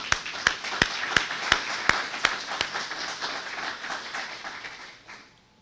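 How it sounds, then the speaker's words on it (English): An audience at a library board candidates event applauds, with a few loud, evenly spaced claps near the microphone over a softer crowd clapping that tapers off. "please join me in offering them a nice round of applause for their work"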